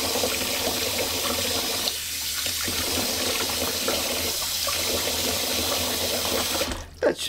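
Water running from a tap into a bathroom sink to fill it for rinsing a razor, a steady close splashing rush that ends with a few brief, louder bursts.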